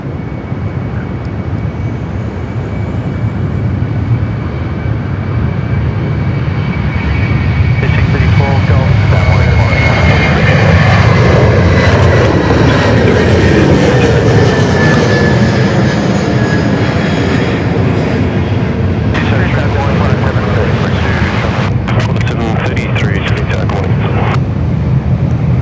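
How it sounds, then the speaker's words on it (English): A Qantas Freight Airbus A330 takes off at Sydney Airport, its broad engine roar building and holding loud with a steady whine, wind buffeting the microphone throughout and voices speaking faintly underneath. "Here we go, the beautiful Qantas Freight A330."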